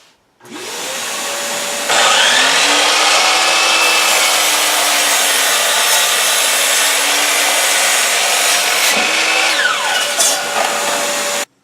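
Power saw cutting an 8-foot 2x4 board in half at the 4-foot mark for a firewood log rack, a loud steady whine running continuously for about ten seconds with no talk.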